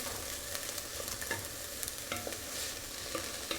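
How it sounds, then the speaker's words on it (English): Picadillo spices and onions stirred almost constantly in a frying pan, a dense sizzle broken by repeated scraping strokes of a utensil, close and continuous, with no voices. "we're just going to give this a stir pretty constantly. We don't want any of those spices to burn."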